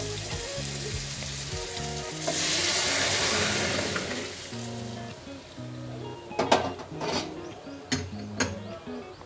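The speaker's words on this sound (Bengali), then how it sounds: "এবার সেদ্ধ করে রাখা ডাল দিয়ে দেবো।" Boiled dal poured into a hot pan with cumin, ginger and green chili paste: a bright hiss swells, then settles into sizzling with several spoon clinks and scrapes, set against steady background music.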